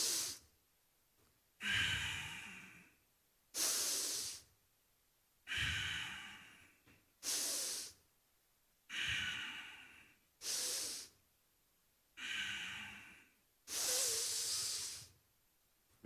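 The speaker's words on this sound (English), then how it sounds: "We will all breathe 5 times, and the breath will be into our stomach." Deep, slow breaths drawn through the nose into the stomach come as about nine long, airy hisses separated by quiet pauses, close and alone with no talking.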